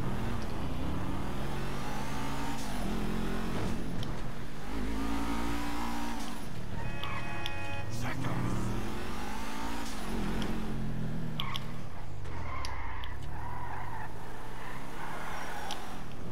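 Dewbauchee Exemplar sports car engine from GTA V, revving up and down in repeated rising and falling sweeps, loud and close throughout with no speech.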